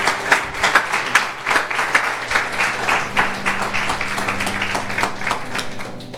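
A church congregation claps together during an evening family worship service, a loud, dense run of applause that keeps going steadily, with voices faintly mixed in underneath.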